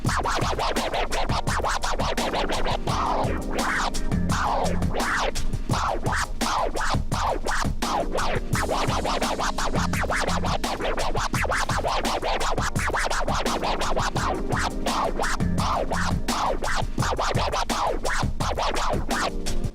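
Rapid scratching from a DJ controller cuts back and forth over a steady, loud hip-hop beat, with dense chirping sweeps and a thumping kick pattern running continuously.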